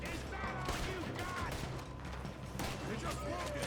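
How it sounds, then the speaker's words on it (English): Gunfire from a shotgun in Red Dead Redemption 2 rings out in several dense blasts over a steady game background, with a voice talking throughout. "why the fuck does it sound like a shotgun? Realizing it is a shotgun."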